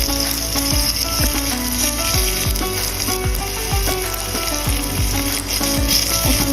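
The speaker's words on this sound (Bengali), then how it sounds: "এখন সুন্দর মতো কষিয়ে নেব টমেটোটা দিয়ে।" Bata fish sautéed with tomato and browned fried onion, giving a loud, constant close sizzle with repeated scraping and knocks of a spoon against the pan throughout, no voices.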